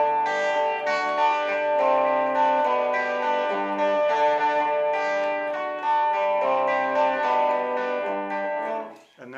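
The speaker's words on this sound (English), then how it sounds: "that's the 12 string." A 12-string guitar played through effects rings out in rich, shimmering chords and melodic lines, loud and close, sustaining continuously before fading at the end.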